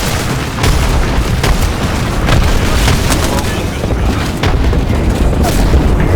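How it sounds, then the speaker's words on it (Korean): Loud grenade blast in the Apex Legends battle royale game, a heavy booming burst with sharp transient cracks recurring across a dense, noisy firefight, close and dominant without clear talk. "수류탄"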